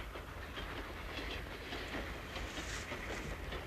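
A train rolls along railroad tracks with a steady, faint rumble and soft clickety-clack of the wheels, continuous with no talk.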